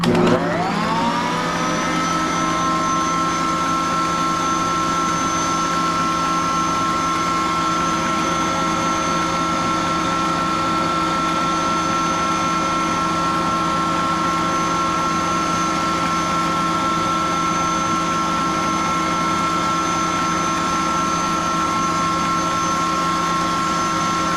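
An electric mixer beating five egg whites for meringue gives a steady, loud, continuous motor whine with a constant pitch throughout, no talking.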